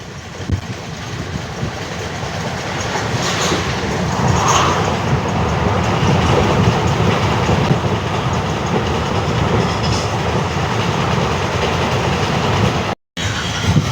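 A passenger train bound for Rameswaram rumbles along the rails, a close, steady roar with faint rhythmic wheel clatter and a short dropout near the end.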